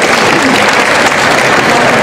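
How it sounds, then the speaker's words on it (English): Loud, continuous applause from an audience at the Crufts dog show, dense clapping filling the whole moment without a break. "So give them a round of applause."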